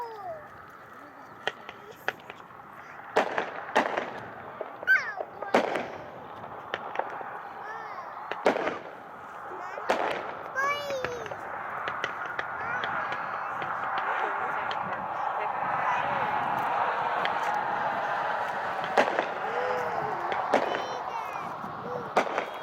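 A Peeps Pick 35-shot 200 gram consumer cake firework going off outdoors, a long sequence of sharp bangs and whistling, crackling bursts over about twenty seconds, with a voice audible between shots.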